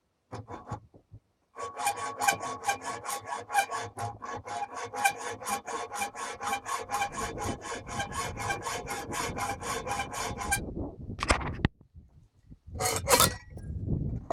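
A saw cuts mounting bracket parts from an offcut, making a long run of fast, rhythmic rasping strokes close by, followed by a few scattered scrapes and knocks as the workpiece is adjusted.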